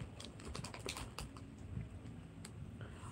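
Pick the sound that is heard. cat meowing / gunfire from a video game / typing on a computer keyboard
typing on a computer keyboard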